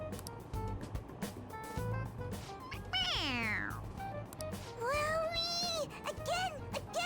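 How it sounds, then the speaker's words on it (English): A stuffed cat toy in Persona 5 Royal gives two distinct, bright meows a couple of seconds apart when its head is pressed, over soft background game sound. "It meows when you press on its head."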